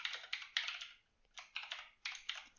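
Bursts of quick keystrokes on a computer keyboard, three clusters of rapid clicking separated by short pauses, close and moderately loud with no talking.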